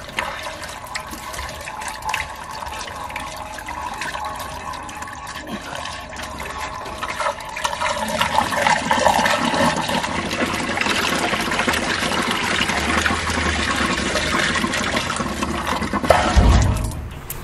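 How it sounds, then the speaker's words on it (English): Narrowboat toilet being emptied and water tank filling, a continuous gushing, trickling water rush that grows louder partway through, without talk. "Then we're going to go empty the toilets and fill up with water."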